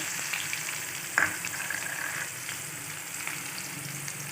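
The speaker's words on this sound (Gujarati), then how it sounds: "રાઈ તતરી જાય પછી આપણે ડુંગળી નાખી દેવાની છે" Onion frying in sizzling oil with tempered mustard seeds, cumin and asafoetida for poha with potatoes, with a steady close hiss of frying, one brief clatter near the start, and no talking.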